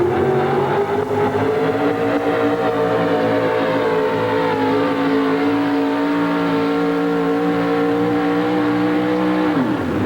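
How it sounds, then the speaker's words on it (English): A Chevrolet 4x4 truck in a sled pull roars with a loud, sustained engine at high revs, its pitch climbing and holding before cutting off near the end. "Here comes the Chevrolet. Turn it on."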